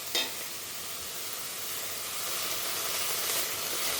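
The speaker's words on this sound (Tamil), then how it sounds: "இப்போ காயெல்லாம் நல்லா வதங்க ஆரம்பிச்சிருக்கு. இப்போ இந்த கீரையை ஆட் பண்ணிக்கலாம்." Vegetables and spinach sauté in a pot with a soft, steady hiss and sizzle. A single stirring clink comes near the start and the sizzle grows slightly louder toward the end. No one speaks.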